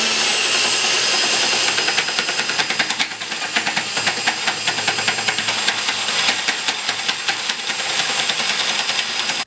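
A weak drill spinning an off-center piece of wood in a homemade wooden mini lathe, a loud continuous whirring drone with a rough, rapid rattling pulse, running steadily before cutting off at the end.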